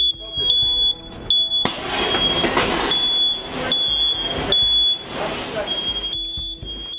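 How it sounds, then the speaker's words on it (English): A smoke detector goes off during a controlled training fire in a structure burn, sounding a shrill, sustained high tone over rushing fire-scene noise, with people talking nearby. "I hear a smoke detector go off"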